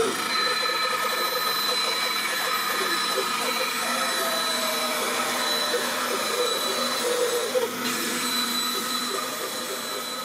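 A bandsaw cuts guitar back plate wood, giving a steady, loud, continuous whirring drone with a constant high whine that holds unbroken for the full length.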